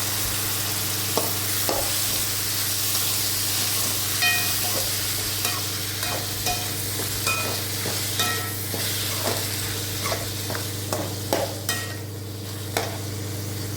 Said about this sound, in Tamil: ஒரு இருபது போல் சின்ன வெங்காயத்தை கட் பண்ணி சேர்த்து நல்லா வணக்கலாம் அதோட தக்காளியும் சேர்த்து நல்லா வணக்கி விடலாம்